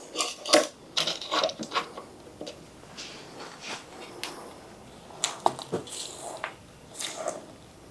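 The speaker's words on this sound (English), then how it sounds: "Now we're going to pour this into our prepared" Lemon blueberry cake batter being poured and scraped into a loaf pan, a series of soft wet squishes and light taps against the pan, close and intermittent, with no talking.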